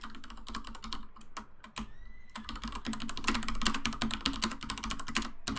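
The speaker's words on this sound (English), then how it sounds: "Could you maybe go on something that doesn't constantly have very loud typing, by the way?" Rapid, loud clacking on a computer keyboard during a World of Warcraft gaming session, with sharp keystrokes in quick bursts, a brief pause, then denser typing close to the microphone.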